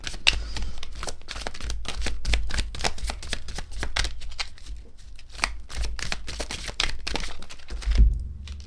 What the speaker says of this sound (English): Let me pull one more card.